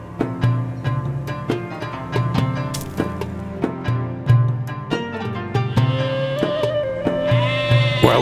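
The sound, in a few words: sheep bleating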